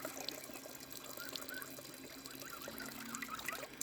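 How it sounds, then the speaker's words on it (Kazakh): Whey water draining from a hanging bag of kurt, a faint, steady trickle and dribble of liquid with small drips, quiet and close. "Міне су әбден ағады осылай."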